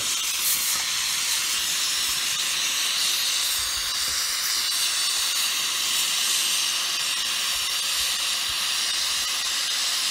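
A brazing torch flame roars with a steady, loud broadband hiss while brazing stainless steel with Stay-Silv 5 rods. The hiss continues unbroken and close up throughout, with no talking.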